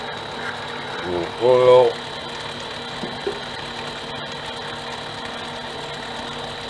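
A Harbor Freight mini lathe turns at about 450 RPM, taking a 0.150 cut in steel, with a steady close mechanical whir and gear hum throughout; someone speaks briefly early on.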